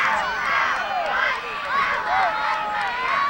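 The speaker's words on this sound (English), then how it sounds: "The crowd is getting excited." A crowd at a high school football game, Saint Paul Seniors at Saint Michael, grows excited in the final minute, a continuous chattering roar with rising and falling cheers. Many overlapping voices fill the space.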